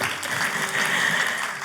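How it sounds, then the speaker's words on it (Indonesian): Church congregation clapping during a sermon, a short, even patter of applause from a moderate crowd, fairly distant and steady. "Tepuk tangannya bagi Tuhan."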